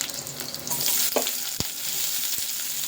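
Green chilli and onion hit hot oil for bakery-style egg puffs, giving a loud, steady frying sizzle with a few sharp knocks of food or spoon against the pan, and no talking.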